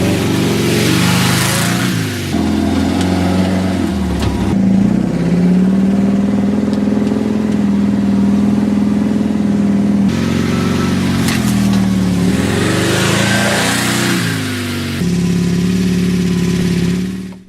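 A beach buggy's engine runs loud and steady throughout, revving up and easing off in repeated swells as it drives, with no talking.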